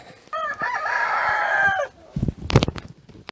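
Hens in a backyard coop at an off-grid homestead, with one hen sitting on eggs, give a loud close crowing-like call lasting over a second, then a few short sharp clucks and scuffling sounds.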